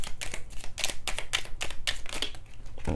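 A deck of tarot cards is shuffled near at hand, a quick run of crisp riffling bursts in a steady rhythm.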